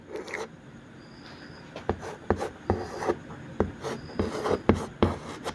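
Chalk or marker writing a chemistry example on a classroom board, a series of sharp taps and scratchy strokes at an irregular rhythm, close and fairly quiet with no talking.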